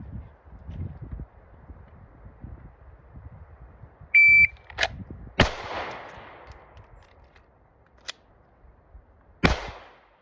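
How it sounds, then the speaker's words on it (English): A shot timer's electronic beep, then a pistol shot, a pause for a tactical magazine reload, and another sharp, loud shot, with a later shot and faint low background noise. "Alright, so that one was 1 shot, tack reload, and 1 more shot."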